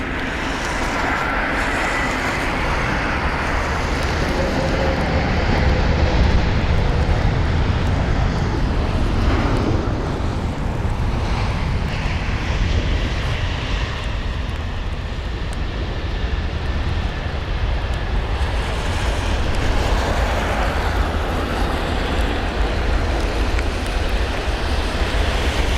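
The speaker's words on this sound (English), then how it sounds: "So there's the Virgin Atlantic 787." A Virgin Atlantic Boeing 787 airliner at Heathrow fills the air with a steady, loud jet engine roar that holds evenly throughout, with no voices over it.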